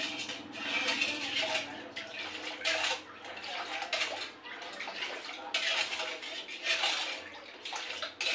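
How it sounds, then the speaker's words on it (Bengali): A spoon stirs agar powder into milk in a pot, giving quick repeated scraping and clinking against the sides with sloshing liquid, close and fairly quiet, in irregular bursts. "এই আগার পাউডার দিয়ে দেখুন আমি ভালো করে ঘুটে মিশিয়ে নিচ্ছি"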